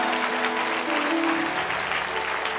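A church congregation claps loudly and continuously in a dense, steady wash of applause, with a sustained vocal tone or singing blended in.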